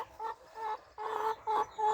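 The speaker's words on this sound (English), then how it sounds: "Come on, chickens, let's have you." Chickens huddled inside a coop at a cabin on a cold day give a run of short, close clucks in quick bursts, one after another, with no voices.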